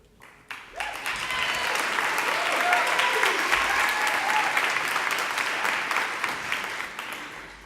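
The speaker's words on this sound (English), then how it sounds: "Do you think they're clapping for you or because you're the last one?" Sustained audience applause at a university hooding ceremony, a broad, steady wash of clapping that swells in quickly and holds evenly throughout, heard alone without talk.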